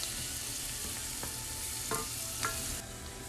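Smoked sausage cooking over medium heat in a pan, a steady close sizzle with a few stirring scrapes and clinks throughout.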